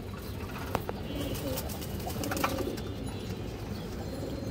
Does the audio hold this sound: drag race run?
no